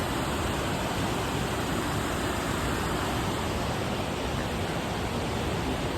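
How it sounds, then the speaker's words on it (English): A loud, steady rush of the Ryuzu Falls cascade near Nikko, Japan, roars continuously, broadband and unbroken, with no voices over it. "We're now at Ryozu Cascades. If you're wondering what's so loud, there it is."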